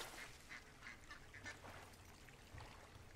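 Ducks in the video game Firewatch give a string of short, faint quacks at a steady pace, set against a soft wilderness background with no talking.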